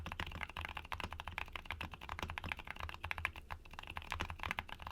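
Rapid, soft typing on a keyboard with silent mechanical switches, muted dense key presses in a quick continuous rhythm, close by and fairly quiet, with no voices.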